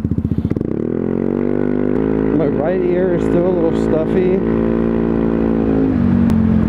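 A motorcycle fitted with a Two Bros aftermarket exhaust hums steadily on the road, with a rising engine note partway through, while a rider talks over it.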